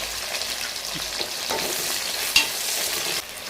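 Small and large onions frying in a pan for mutton chops, a dense steady sizzle with soft scraping stirs and one sharp clink, close and continuous, no voices.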